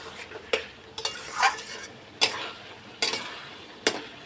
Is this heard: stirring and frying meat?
yes